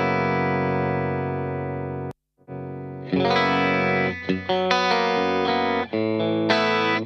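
Compressed 1980s-style electric guitar with chorus and distortion effects and no high-frequency EQ boost, sounding dull and dark; a sustained chord rings, cuts to silence briefly, then a run of picked notes and chords continues loud and alone.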